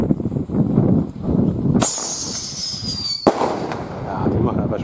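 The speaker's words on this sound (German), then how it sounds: "Vielleicht nochmal ein Whistling, ne?" A whistling firework screams with a high, slowly falling tone for about a second and a half, cut off by a sharp bang, with people talking outdoors before and after.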